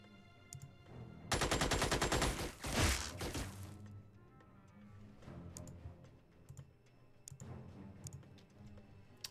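Rapid automatic gunfire from the video game Xenonauts rattles out in a dense burst of shots lasting a couple of seconds, followed by quieter scattered clicks and softer rattling.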